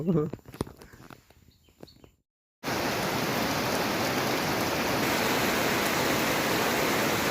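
Steady, dense rain falls in a forest, a loud, even hiss that starts abruptly and carries on alone, preceded by a couple of seconds of voices and rustling.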